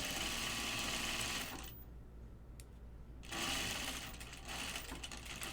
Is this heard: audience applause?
no